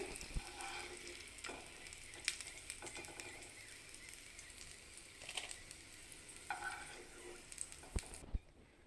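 Green chillies fry in oil in a pan for gongura chutney, giving a faint, steady sizzle with occasional soft stirring clicks and taps throughout.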